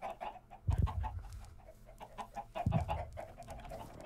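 Chickens in the Minecraft video game cluck in short bursts, two louder clusters standing out over a quiet, busy game background, with no talk.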